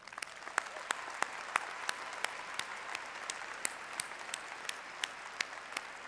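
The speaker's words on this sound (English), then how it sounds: "Let's give them a round of applause." Applause from the audience at a University of Arkansas fall commencement ceremony, a fairly faint, distant wash of clapping with a few sharper individual claps standing out at a steady pace.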